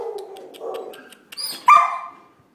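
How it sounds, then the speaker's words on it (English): A boxer dog gives a short whimpering yip followed by a sharper bark near the end, close and fairly loud, after quiet murmuring and soft background sounds. "Look at that boxer face."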